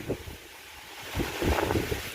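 Gusty outdoor wind buffets the microphone in low, rumbling surges that swell and fade, growing stronger toward the end.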